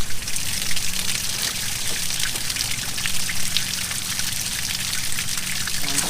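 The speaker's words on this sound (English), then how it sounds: "So turn the water on." Water runs steadily from a hose to cool an Evinrude 150hp V6 outboard motor, a constant hissing splash with a close, even texture and no talk.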